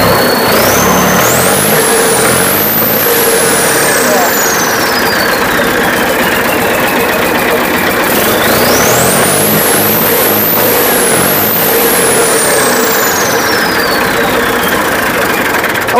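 A freshly painted tractor engine runs steadily after starting, a loud, close, continuous rumble with high whining tones that sweep up and down over the idle.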